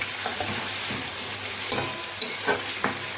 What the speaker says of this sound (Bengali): এবার মাংসটাকে ভেজে নেব